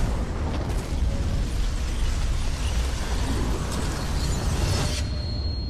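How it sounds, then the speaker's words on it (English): Dense rumbling blasts and crackling debris from explosions in the video game Killzone: Shadow Fall fill the clip continuously, loud and close, with no voices. "Explosions!"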